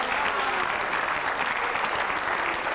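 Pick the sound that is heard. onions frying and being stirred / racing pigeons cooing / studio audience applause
studio audience applause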